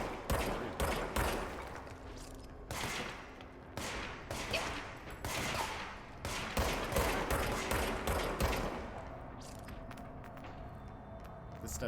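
Repeated bursts of gunfire from the video game Control, fired in quick volleys separated by short pauses, loud and close throughout, with faint speech at times.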